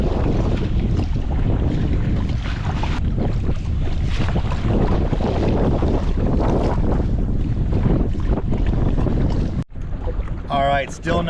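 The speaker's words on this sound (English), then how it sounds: "This wind has been kicking the crap out of us" Heavy wind roars across a lake around a small fishing boat. A steady, loud rush of gusts and microphone buffeting continues throughout, followed by a brief drop and some softer scraping at the end.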